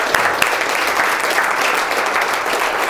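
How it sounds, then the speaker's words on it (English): Audience applause at an academy event, a steady dense clapping from a sizable crowd that fills the whole stretch without a break, no voices standing out over it. "I want you all to give a round of applause to the most important human"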